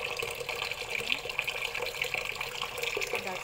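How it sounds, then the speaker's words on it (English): Water poured into a pot of rice for soaking while cooking chicken mandi, a steady close splashing and trickling that runs continuously for a few seconds. "we need to put water in the rice for 1 hour."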